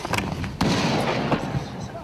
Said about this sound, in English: 3 explosions, 50 yards away